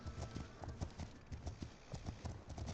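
Steady clip-clop of horse hooves in the video game The Legend of Khiimori, an even, close rhythm of hoofbeats running throughout with no voices.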